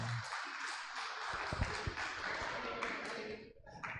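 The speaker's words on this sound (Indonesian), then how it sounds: "Kita beri aplaus untuk Pak Deki" An audience breaks into applause for Pak Deki at a church committee briefing. A dense, steady wash of clapping fills the room for several seconds, then thins out near the end.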